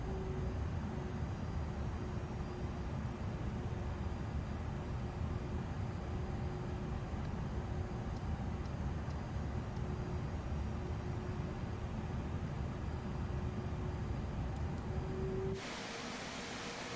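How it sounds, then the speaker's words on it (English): An Airbus A330-900neo taxiing at Frankfurt in Microsoft Flight Simulator gives a steady, dense jet engine roar with a faint constant whine, unbroken for most of the stretch before dropping suddenly near the end. "tiny little bit of throttle, just to get us rolling"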